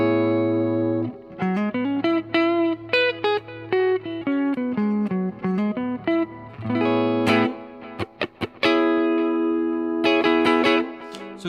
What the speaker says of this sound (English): So this is the blue channel with a little bit of slapback delay and a plate reverb on it.